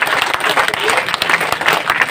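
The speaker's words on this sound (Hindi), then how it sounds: "आप लोग हाथ उठा करके जोरदार तालियां बजा करके" A gathering's audience breaks into loud, dense applause at close range, a short burst of clapping with crowd noise.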